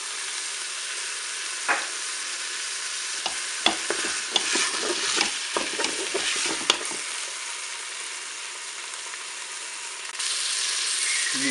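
Pork roast and a garlic clove browning in a Cookeo multicooker, giving a steady sizzle with a burst of stirring and scraping clatter in the middle, close and alone.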